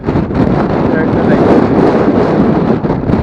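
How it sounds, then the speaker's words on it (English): Strong wind on a hilltop buffets the microphone in a constant loud roar, gusting and rumbling without a break, with no voices over it. "we're gonna move on because it's just so windy up here."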